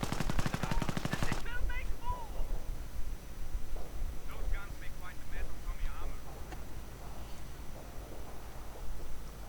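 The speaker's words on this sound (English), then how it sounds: "Sniper taking a few shots." A sniper fires a few shots in a real-time strategy game, a rapid burst of gunfire at the start followed by scattered distant battle sounds, with a voice talking over it.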